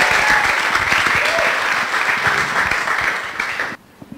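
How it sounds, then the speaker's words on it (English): Audience applause for a speaker at a live talk event, a dense steady clapping from a full crowd that holds loud for nearly four seconds before cutting off abruptly to quiet room noise. "A big round of applause to Abdallah Absi."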